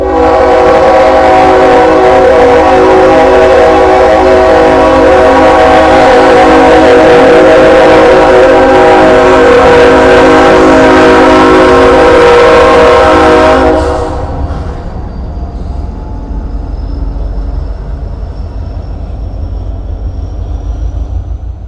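A loud train rolls past close by with its horn sounding in steady harmonic blasts for about fourteen seconds, then cuts off, leaving a quieter rumble fading into the distance.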